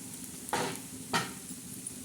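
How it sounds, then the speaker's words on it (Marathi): Sliced onion with coriander seeds sautéing in a pan for egg bhurji, a soft background sizzle broken by two distinct stirring scrapes of a spatula, close by. "मस्त परतवायचा कांदा आता त्याच्यात कांदा तो परततो"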